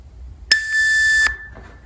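A single sustained electronic beep, steady and piercing, lasting under a second against a quiet background, signalling a change of interval during a workout session.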